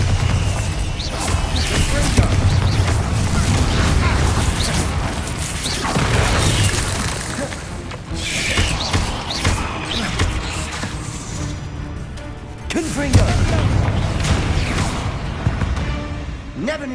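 Confringo and Bombarda spell explosions in Hogwarts Legacy, a run of loud crashing blasts and whooshes rolling continuously, with sharper impacts around two, six and thirteen seconds.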